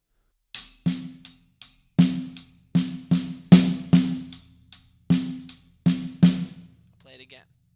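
Slow drum paradiddle played across hi-hat and snare: evenly spaced sharp strikes that mix crisp snare cracks with lighter hi-hat ticks in a steady alternating pattern, close and clear, fading out with a few soft taps.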